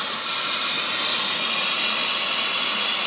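Air hisses steadily and loudly out of an opened clutch bleed breather on a VW T4 van, a continuous close-up rush with no breaks and no talking.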